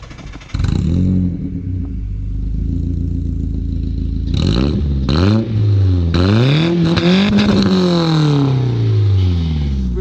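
A BMW E30 engine with a cut muffler and full stainless exhaust cranks and fires up loudly, idling with a harsh, rumbling exhaust, then revs several times in quick bursts before settling.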